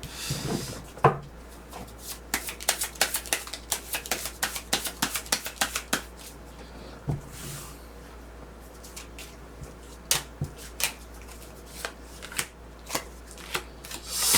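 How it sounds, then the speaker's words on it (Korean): Tarot cards being shuffled and drawn, a close series of soft papery riffles and flicks, busy in the first half and then sparser snaps and slides. "좋은 카드 한번 뽑아보도록 하겠습니다"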